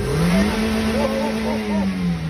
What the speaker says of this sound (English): Keep it in the limiter and then you turn your car off.